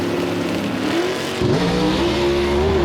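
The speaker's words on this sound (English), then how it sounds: "Beautiful launch by both cars, David." Gasser drag race cars launch off the line at a dragway, engines roaring loud and close with rising revs and a sharp surge partway through as they pull away.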